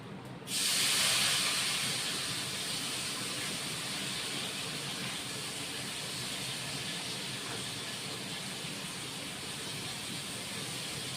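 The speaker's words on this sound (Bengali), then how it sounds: "পটলটা ভেজে নেব" Pointed gourd (potol) slices frying in hot oil give a steady, loud hissing sizzle that starts abruptly and holds evenly for about ten seconds, with no talking.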